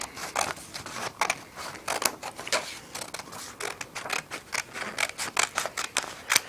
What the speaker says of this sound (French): Vous allez ensuite utiliser vos ciseaux.